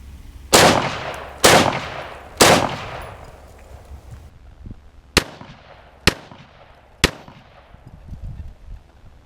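Six sharp 5.56 rifle shots from a Tavor bullpup, fired outdoors at a target: three evenly spaced loud reports with long decaying echoes, a brief pause, then three more cracks at a steady rhythm, with no talking.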